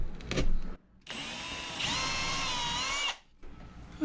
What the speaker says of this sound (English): Maybe I'll just do a really shallow pilot hole.